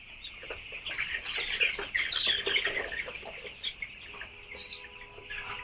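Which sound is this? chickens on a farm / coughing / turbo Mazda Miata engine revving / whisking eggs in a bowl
chickens on a farm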